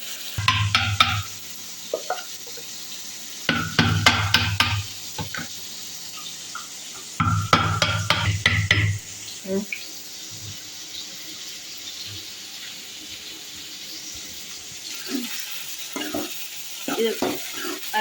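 Ingredients with tomato are sauteed in a pan for a Sri Lankan fish curry: a steady sizzle runs throughout, broken by bursts of rapid scraping stirs, close by with no voices.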